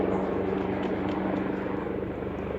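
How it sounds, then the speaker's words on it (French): An airplane passes overhead outdoors, a steady broadband engine roar that holds loud and close for the whole stretch with no other sound on top of it. "Il y a un avion qui vient de passer, qui vient faire un boucan."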